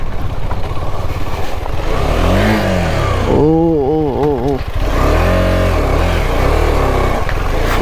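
A KTM 250 Adventure motorcycle ridden off road, its engine droning loud and close throughout, with rising and falling revs and a busy rattle of wind and terrain.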